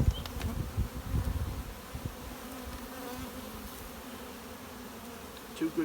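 Bees drone steadily in an opened beehive holding two populations split by a frame of foundation, a dense buzzing hum close by with a few soft handling knocks early on.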